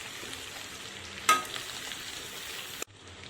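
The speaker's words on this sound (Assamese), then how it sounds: "এইখিনি এতিয়া অকণমান ভাজি ল'ম।" Pork sizzles in a pan with salt and turmeric and no spice masala, frying steadily, with a sharp stirring clank partway through before the sound cuts off abruptly.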